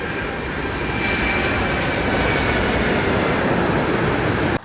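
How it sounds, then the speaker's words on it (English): A jet airliner roars loudly during takeoff at Delhi Airport, a dense, sustained thunder of engines that holds steady before cutting off abruptly. "What a beautiful takeoff man."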